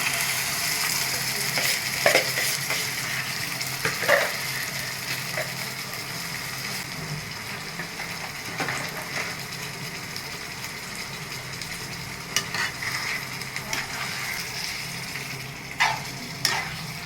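Chicken for a ghee roast fries with golden-browned onions in a pan, a constant close sizzle broken by occasional spatula scrapes and knocks as the pieces are stirred.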